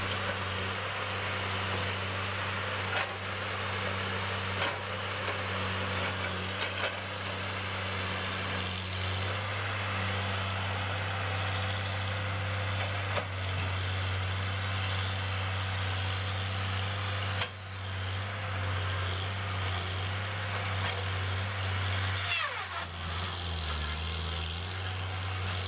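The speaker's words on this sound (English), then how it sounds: "Pass after pass, the Hood S182 maintains order while volume builds, showing how controlled handling can move timber fast" A Hood S182 log loader handles and stacks timber, its engine a steady, continuous drone with mechanical whine and clatter layered on top, holding at a fairly constant level throughout with no voices.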